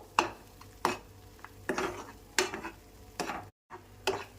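Masala paste for paneer masala curry frying in a pan, with repeated sharp stirring scrapes and clinks of a spoon against metal at irregular intervals over a soft sizzle, close and moderately loud, with no talking.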